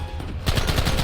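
Rapid gunfire in the Red Dead Redemption video game, a loud close burst of quick repeated shots that kicks in abruptly after a brief quieter lead-in and continues to the end.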